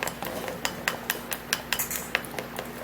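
Banana and tomato paste being stirred in a bowl, giving a steady run of light clinks and taps from a utensil against the dish, close and fairly quiet, with no talking.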